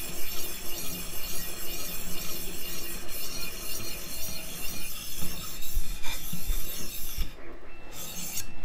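A USMC KA-BAR knife is sharpened in circular strokes, producing a continuous loud gritty rasping with a rhythmic swell, close up, with a brief pause near the end.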